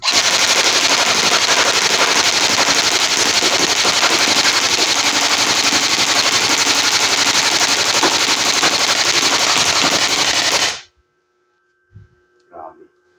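An automatic electric toy gun fires in semi-auto mode as a loud, dense, continuous burst of rapid shots for about eleven seconds, then cuts off abruptly, leaving a couple of faint knocks and near-silence.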